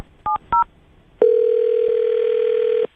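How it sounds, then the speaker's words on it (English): Two short keypad dial beeps, then a steady telephone tone sounding alone for well over a second and a half as a call to a radio guest's phone connects. "I'm going to dial her phone number right now"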